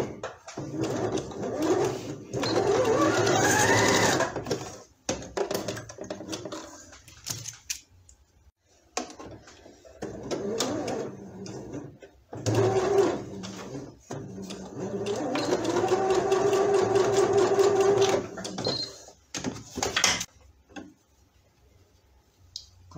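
Sewing machine stitching black doll fabric with white thread, running in several bursts of steady whirring separated by pauses, close and fairly loud.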